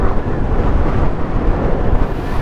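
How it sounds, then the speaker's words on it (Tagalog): Strong wind roars and buffets the microphone during a motorcycle ride in rural Bicol, making a loud, continuous broadband rush that fills the whole clip with no talk. "Lakas pa ng hangin."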